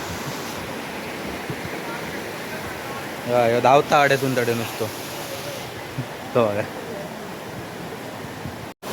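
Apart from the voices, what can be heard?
waterfall, water flowing down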